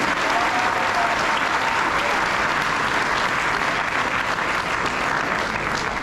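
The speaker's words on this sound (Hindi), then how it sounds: "मिली-जुली तालियां आपकी आ रही" A large audience at a Hindi poetry gathering (kavi sammelan) at IIT Roorkee claps steadily and loudly, a dense, continuous burst of applause filling the hall from start to finish.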